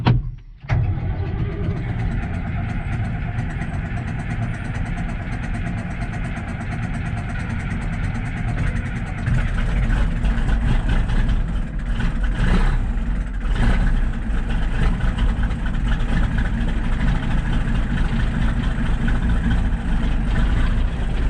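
An old farm tractor engine catches on a cold start and settles into a steady, loud, rumbling idle close by, running continuously with no talk.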